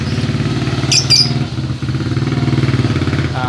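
Roadside traffic rumbles close by, led by a motorcycle engine idling and revving, with a couple of brief high squeaks over the steady drone.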